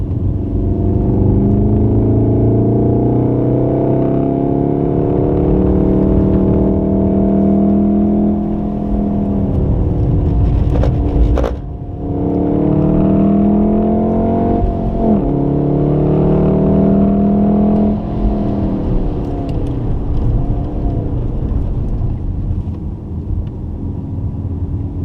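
A Golf R on a track day at Wakefield pulls hard under throttle, its engine note climbing through the gears in loud sweeping rises, easing briefly around a shift, then revving up again.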